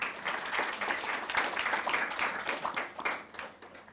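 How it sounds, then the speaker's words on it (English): A room of press-conference attendees applauding chess players Caruana and Vishali at the Candidates tournament, a steady moderately loud clapping that holds for a few seconds and then begins to fade. "I think they deserve a round of applause"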